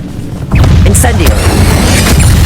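Incendio, a fire spell, is cast in Hogwarts Legacy: a sudden loud whoosh and boom erupts after a brief quieter lead-in, then sustains as a roaring burst with crackling bright flickers.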